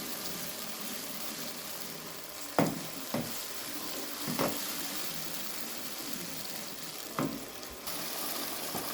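Minced meat with yogurt fries in a pan with a soft continuous sizzle, broken by a few sharp scrapes and knocks of the stirring spoon, heard close with no talking.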